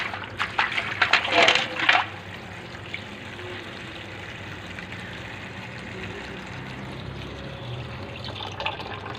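Water is poured over keyboard parts in a container, a short burst of splashing and trickling near the start that gives way to quiet room tone, with faint talk in the background.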